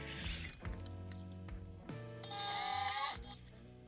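A power drill bores through a rivet, its motor whining and rising in pitch over a few seconds with a brief pause between bursts, close up and moderately loud, with no talking.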